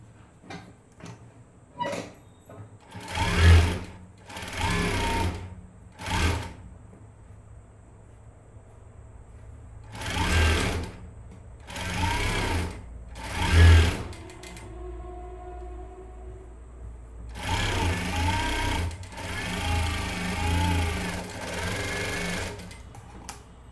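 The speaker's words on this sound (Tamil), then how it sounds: "இப்போ வந்து இதை ஸ்ட்ரெயிட்டாக ஒரு தையல் வந்து நான் போட்டுக்கிறேன்." A sewing machine stitches blouse lining in several short bursts of rapid mechanical whirring, separated by pauses filled with handling clicks and fabric movement, close and without speech.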